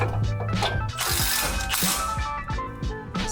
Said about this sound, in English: Tighten down all bolts.